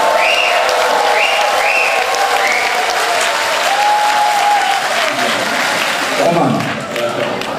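Audience at a concert applauding and cheering, dense sustained clapping with shouts and whoops over it, loud and close throughout before easing toward the end.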